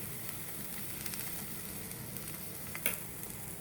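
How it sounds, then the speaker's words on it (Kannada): Buttered bread frying in a frying pan gives a steady, soft sizzle throughout, with one brief brighter crackle near the end and no talking. "ಮೇಲ್ಗಡೆ ಲೇಯರಿಗೆ ಬೆಣ್ಣೆಯನ್ನು ಸವರಿ ಅದನ್ನು ಫ್ರೈಯಿಂಗ್ ಪ್ಯಾನ್ ಮೇಲೆ ಹಾಕಬೇಕು."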